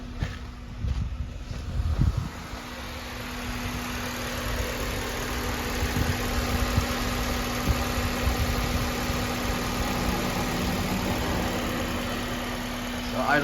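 A Honda K20Z3 engine swapped into a base Acura RSX idles smoothly and steadily nearby, a low even hum with a faint constant whine, and a person talks over it at the start.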